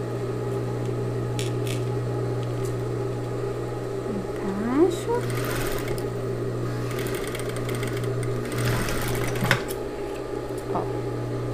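A sewing machine stitches a knit dress with a steady mechanical hum and a few brief bursts of faster running, heard close up in a quiet room.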